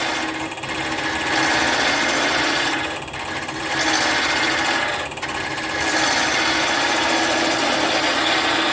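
Wood being turned on a lathe with a chisel: a steady, loud abrasive hiss of the cutting edge against spinning wood, briefly easing twice as the tool is repositioned, with no talk.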